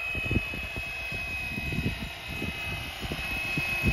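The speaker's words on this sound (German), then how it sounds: "Der Heli steht wieder wie angenagelt in der Luft, wenn man alle Sticks loslässt." A FlyWing Bell 206 Jet Ranger V3 RC helicopter hovers in flight, its steady high electric whine running over a fast, fluttering rotor chop throughout, fairly close and alone.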